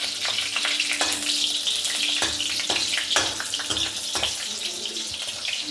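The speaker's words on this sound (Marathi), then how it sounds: "तर तळलेल्या ह्या 2 मिरच्या त्यात टाकायच्या." Green chilies fry in hot oil for a mutton curry, giving a steady, close, bright sizzle with occasional louder pops and spatters throughout.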